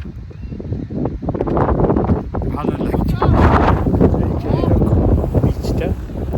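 Wind blows across a sunny Pacific Ocean beach, buffeting the microphone with a steady low roar. A person talks over it throughout.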